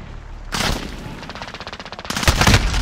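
Automatic rifle fire from an AK-47 in Modern Warfare, a jungle multiplayer match: a long rapid burst of close, loud shots, then a second heavier volley near the end.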